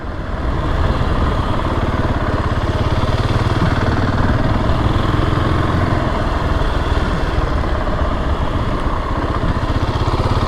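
A 2020 Husqvarna 701 SM motorcycle engine runs in a parking lot during break-in, a loud, close, unbroken drone holding steady throughout.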